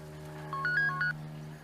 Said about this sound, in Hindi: बहन का फोन है।